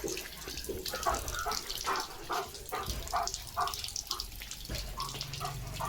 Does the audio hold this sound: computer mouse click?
no